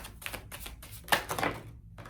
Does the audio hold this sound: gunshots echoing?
no